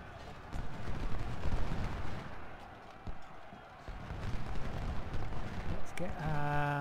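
Musket volleys and artillery fire from an Ultimate General: Civil War battle at Crampton's Gap rumble as a dense, continuous din with irregular bursts, and a brief tonal sound rises near the end.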